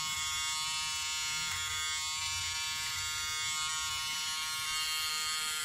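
An automatic electric shaver buzzes steadily up close, a constant bright motor drone with faint irregular shifts as it moves through hair.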